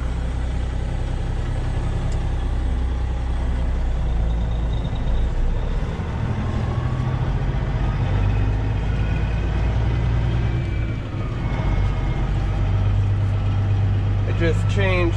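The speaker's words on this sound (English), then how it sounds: "And man, is my turbo loud now." A cattle-hauling truck's engine drones steadily and loudly while driving, with a faint turbo whine riding over the deep low rumble for the whole stretch.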